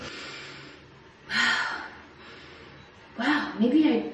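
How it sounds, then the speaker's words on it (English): Two separate breaths are drawn in through the nose while wearing a nasal strip, each a short, close, airy sniff with quiet pauses around them. "Breathe through the nose."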